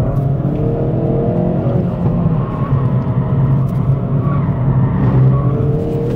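A race car engine pulls hard on a real circuit in second gear, a loud, steady rumble with a droning tone that holds through the whole run, close and continuous with no talking.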